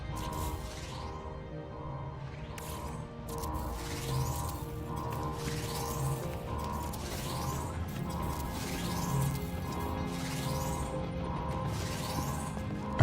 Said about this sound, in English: Fireworks.